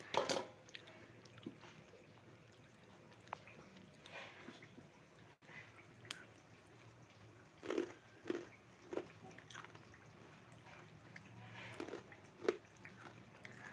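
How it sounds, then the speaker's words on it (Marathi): Someone chews crispy homemade chakli, a fried spiral Diwali snack, with scattered faint crunches and a few louder crackling bites clustered near the middle and end of a quiet stretch. "आवाज येतोय ना एकदम कुरकुरीत अशी चकली झालेली आहे"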